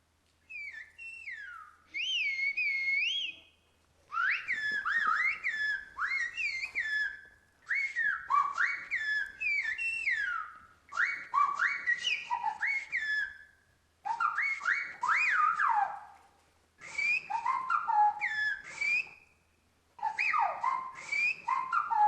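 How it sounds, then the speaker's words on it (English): Sequences of gliding whistled tones translating Zapotec speech in short phrases separated by brief pauses, rising and falling like speech melodies, clear and close. "I decided to learn Zapotec in order to make my own whistle translations"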